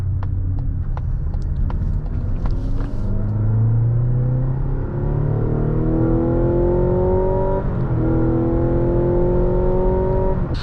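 A Mazda CX-90 PHEV plug-in hybrid drives in EV mode, producing a steady loud cabin rumble with rising whine tones as it gathers speed, then a dip and another smooth climb.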